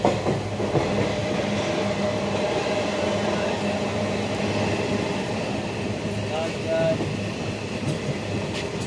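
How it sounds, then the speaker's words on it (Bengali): A train heading to Howrah runs steadily, heard from inside the carriage as a continuous rumble and rattle of wheels on rails, loud and unbroken throughout. "এত ট্রেনের সাউন্ড"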